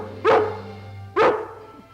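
Lassie, a cartoon collie, gives two sharp, close barks about a second apart over a quiet background.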